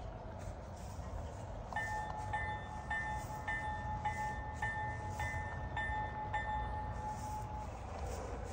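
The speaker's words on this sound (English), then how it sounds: "And this locomotive will creep. It's got the Phoenix sound system" A model locomotive fitted with a Phoenix sound system runs steadily with a low mechanical rumble. A short horn or whistle tone sounds repeatedly and evenly through the middle of the stretch. No one speaks.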